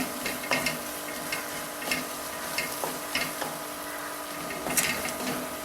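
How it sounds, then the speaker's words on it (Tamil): Spice powder frying in oil while making fenugreek tamarind kuzhambu, stirred steadily in a pan: a continuous soft sizzle with regular scraping strokes of the spoon, close and moderately quiet. "ஒரு 2 நிமிஷம் நல்லா அந்த மாதிரி கிண்டுங்க."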